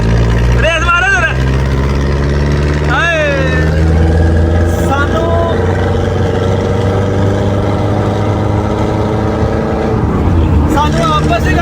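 A motorcycle engine runs steadily while being ridden after a jump, a continuous low drone mixed with wind rush that lasts the whole stretch, with people talking loudly over it.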